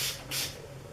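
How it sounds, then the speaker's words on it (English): Coconut-scented spritzer spraying, two quick close hissing bursts of mist in quick succession, each a short sharp spray. "I also love the spritzer on it."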